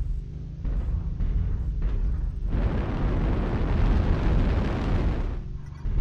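A destroyed target explodes in an online war video game, a few thumping hits followed by a long, loud rumbling blast that roars for several seconds before fading out.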